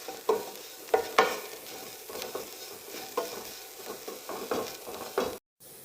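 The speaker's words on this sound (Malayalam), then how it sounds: "ഇതിൻ്റെ പച്ചമണം ഒന്ന് മാറുന്നത് വരെ ഇത് ഇളക്കി യോജിപ്പിച്ച് കൊടുക്കാം." Brinjal pepper roast masala is stirred and fried in a pan, a soft steady sizzle broken by repeated scraping strokes of the spoon, close and moderately loud.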